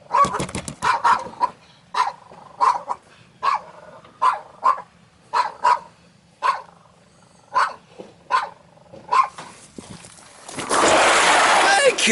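A dog barks in a string of sharp, spaced barks near the listener, about a dozen over several seconds, with a loud rushing noise taking over at the end.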